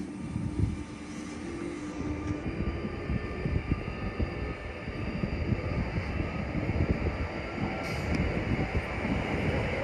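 Train set 95D in IDFM livery at St-Denis station, a steady rumbling roar of rolling wagons and rail noise with faint high squeals, continuous and moderately distant.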